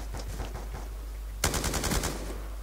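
Light machine gun fire from a Black Ops 2 gun game match: faint bursts early on, then a loud rapid string of shots about halfway through, with no talking.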